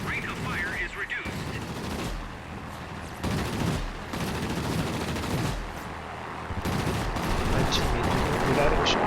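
Rapid machine gun bursts from a warplane in World of Warplanes, dense and loud, layered with other battle effects and continuing across the whole stretch with brief pauses between volleys.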